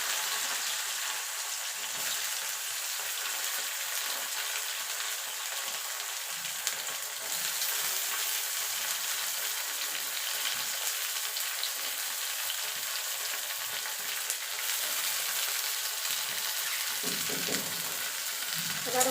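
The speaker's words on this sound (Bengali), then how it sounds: "এবার উচ্ছেটাকে একটুখানি ভাজা ভাজা করে নেব।" Bitter gourd frying in hot oil with nigella seeds, a loud, continuous hissing sizzle with occasional stirring scrapes, close up and without speech.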